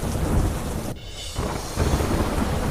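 Heavy downpour with thunder rumbling during flooding rain in Pali, Rajasthan, a dense steady roar of rain that briefly drops away before returning loud and continuous.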